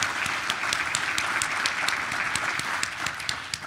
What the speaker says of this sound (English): So I think that's worthy of a round of applause.